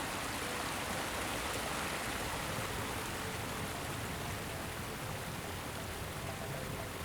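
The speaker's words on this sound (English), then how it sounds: "it's got a built-in hot tub with a nice little waterfall feature there." Steady, close water splashing from a waterfall feature spilling into a built-in backyard hot tub beside a pool, a continuous broadband rush with no voices.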